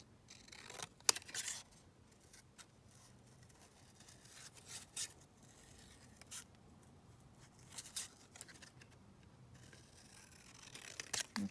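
Scissors snip through a paper book plate at a desk in a quiet room, with a few short, crisp cuts spread across the moment and soft paper handling between them.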